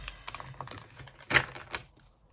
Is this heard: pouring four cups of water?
no